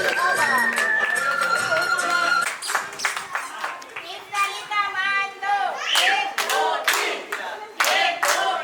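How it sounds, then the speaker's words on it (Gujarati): Friends from Sonawala High School clap together at a get-together on a farm in Mahemdavad, a burst of close, sharp hand claps that gives way to scattered clapping, laughter and overlapping chatter. "આપણે બધાએ એમને તાળીઓથી વધાવવાના છે"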